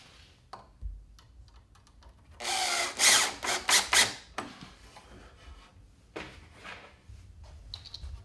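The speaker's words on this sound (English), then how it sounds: "Your drill handy." A power drill whirs in several short bursts, driving screws to mount an electrical receptacle box in a basement, with quiet tapping and handling noises before and after.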